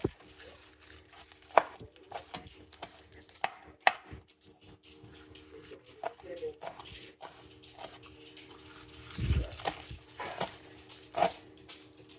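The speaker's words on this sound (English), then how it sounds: "I'm going to give it just a quick chop." A knife quickly chopping a small pile of spinach, about a handful and a half, on a cutting board. The cuts come as scattered sharp taps, irregular and close, with a louder thud cluster near the end.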